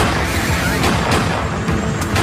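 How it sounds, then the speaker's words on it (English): Gunfire erupts as ATF agents approach the Mount Carmel compound during the 1993 raid: loud, harsh bursts of shots buried in heavy, distorted broadband noise in old archival footage. "As the first agents approach, gunfire erupts."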